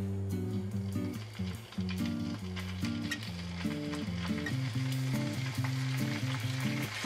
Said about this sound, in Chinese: 一个个两面煎一下